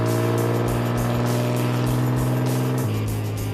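A rally car engine, a Rallaxie build, holding a loud, steady drone near and alone, with its pitch dropping slightly late as the throttle eases.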